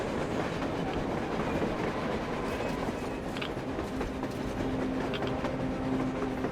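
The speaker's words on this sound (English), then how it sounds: "A train! A damn train on the surface!" A train rolls across the surface in Metro Exodus, a steady loud rumble with clickety-clack of rail cars continuing throughout, no other voices.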